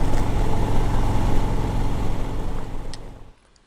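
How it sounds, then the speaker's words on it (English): A big American-style V-twin motorcycle engine, an Electra Glide Revival, idles with a deep, throbbing rumble for a few seconds, then cuts off abruptly into near silence. "like a big V-twin American styled motorcycle"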